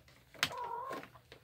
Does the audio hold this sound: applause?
no